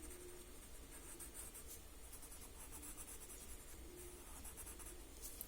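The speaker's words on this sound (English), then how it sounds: "Just very lightly I'm working the graphite on the paper here." Graphite pencil shading lightly on paper for tangle-style drawing: a faint, continuous soft scratching and rubbing that runs without pause, quiet and close.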